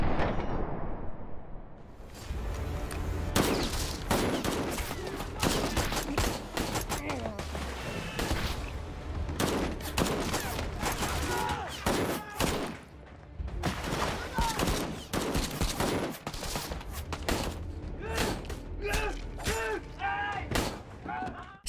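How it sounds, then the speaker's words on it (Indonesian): A staged gunfight between police and militants: dense bursts of gunfire and rapid shots crackle close and loud for the whole stretch, with heavier blasts mixed in. "Hingga akhirnya baku tembak pun terjadi."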